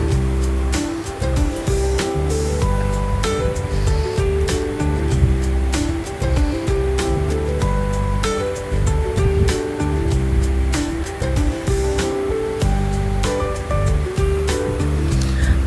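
Ocean surf at high tide on a rocky beach in Nasugbu, Batangas, a steady loud wash of breaking waves and rushing water continuing throughout with no pause.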